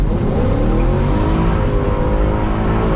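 A car engine roars loud and steady for the whole stretch, revving hard as the driver guns the gas to push the car into a drift, with a faint hint of tire noise.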